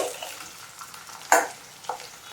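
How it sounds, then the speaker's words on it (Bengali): Chicken pieces coated in a rice flour marinade go into hot oil for Kerala-style chicken, giving a soft frying hiss broken by two sharp sizzling bursts as pieces hit the oil. "এগুলো ভাজতে দিয়ে দিচ্ছি।"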